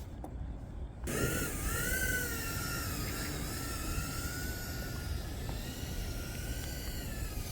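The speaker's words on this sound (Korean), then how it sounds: "파보 피코부터 날려보도록 하겠습니다." A Pavo Pico FPV drone takes off outdoors. After a second of near quiet, a steady, high propeller whine with a buzzing edge rises and holds, close and fairly loud, with slight shifts in pitch.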